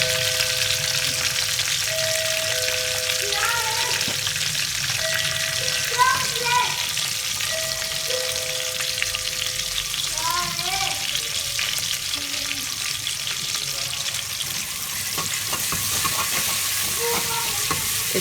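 Red chili goes into a pan of ginger and garlic frying for daal mash, giving a continuous close sizzle with spatula stirring and scraping throughout, and faint tonal sounds in the background.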